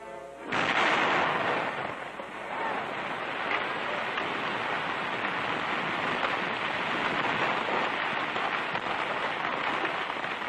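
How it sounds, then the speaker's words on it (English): A sudden heavy dynamite blast beneath a river bottom gives way to a long roaring rumble and falling debris that hisses like rain for several seconds. "Now hold tight and watch for the explosion."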